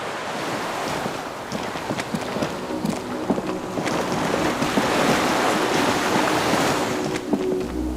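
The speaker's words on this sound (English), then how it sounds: "The skiff is swaying on the waves by the dock." Water laps and washes steadily around a small wooden skiff moored at a dock in Disco Elysium, a continuous surf-like wash with wind noise and faint creaks, loud and close with no talking.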